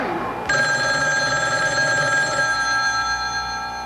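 A telephone rings in a radio voicemail advert aired during a basketball broadcast, a bright electronic bell that starts abruptly and rings steadily for several seconds, close and clear.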